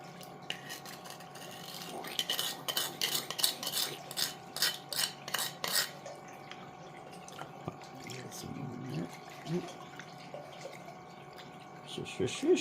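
Sand and water being swished around in a gold pan, with faint rhythmic sloshing and small trickles and drips, quiet and close, as a voice briefly speaks at the end.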